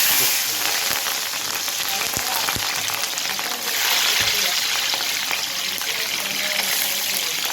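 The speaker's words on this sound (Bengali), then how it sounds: "পেঁয়াজ কুচি, কাঁচামরিচ কুচি আর রসুন কুচি দিয়ে দেবেন।" Chopped onion, green chili and garlic sizzle and hiss steadily in hot oil, a dense continuous frying crackle close by with occasional sharper pops and a faint voice in the background.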